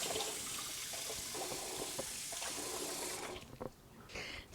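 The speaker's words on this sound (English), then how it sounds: "So wash your hands again." Running tap water splashing steadily over hands being washed in a kitchen sink, a continuous hiss that drops off near the end as the flow stops.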